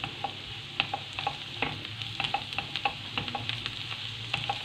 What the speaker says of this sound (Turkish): Birkaç dal maydanoz ve dereotunu doğrayıp karıştırıyoruz.